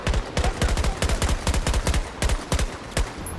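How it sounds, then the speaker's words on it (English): Gunfire from behind in the Battlefield 2042 video game: rapid, loud bursts of shots in uneven clusters, sharp and close, with no talking over them. "They're shooting behind you."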